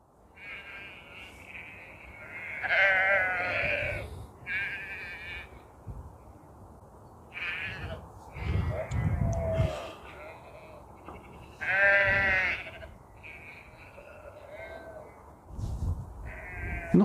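Sheep bleating near a river while barbel fishing, several wavering calls coming and going at moderate distance, with soft outdoor ambience and a person speaking in between.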